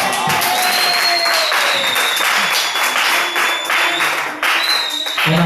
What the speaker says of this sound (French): On applaudit très fort.